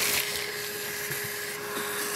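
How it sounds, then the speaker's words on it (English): A vacuum cleaner sucks dirt out of a Porsche 914 engine bay, a steady close whoosh with rough scraping and rattling of debris through the nozzle, and no talking. "Covered up with dirt, I'm gonna vacuum that out and see if we can get them out."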